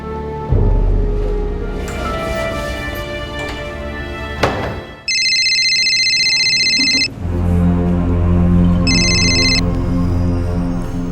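A telephone rings in two bursts of bright electronic trilling, the second shorter, over a loud, dense background of music and low rumble, in a crime drama scene.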